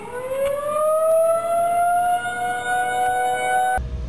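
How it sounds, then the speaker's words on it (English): A loud New Zealand civil defense siren for earthquake or volcanic eruption warnings wails with a rising, sustained tone that holds for several seconds before cutting off abruptly. "The big horn, if there was an earthquake or a volcano eruption, that's the sound they play"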